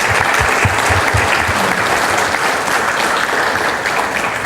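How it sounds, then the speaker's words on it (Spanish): An audience at a national energy forum claps loudly and steadily, a dense, even round of applause with no voices on top. "Un aplauso."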